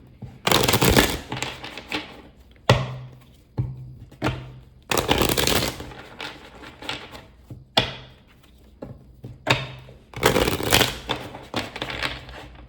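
Tarot cards are shuffled in several quick riffling bursts, with short pauses and soft handling noises between them, close up with no talking.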